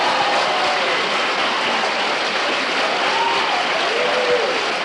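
An audience at a 1974 lecture bursts into dense, sustained applause, a loud continuous wash of clapping that holds steady throughout with faint voices mixed in.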